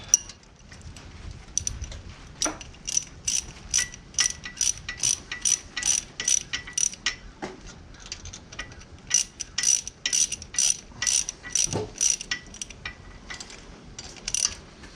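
A ratchet clamp clicks tight on a cherry log at a sawmill, with a long run of sharp, evenly spaced metallic clicks in quick bursts, close and loud, with a few pauses.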